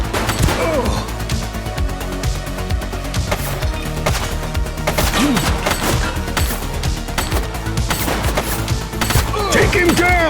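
Gunfire from a suspect in The Precinct, a police video game set in a crime-ridden city: rapid, loud shots and crashes mixed with dense game music and effects, with voices talking over it.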